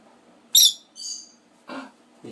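A bird calls close by in a quiet room: four short, separate bursts, sharp and chirpy, with a faint hum between them.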